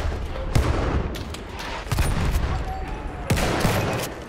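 Gunfire from the video game Battlefield 1 includes a sniper rifle shot among several sharp, loud reports spaced irregularly over a noisy battlefield background.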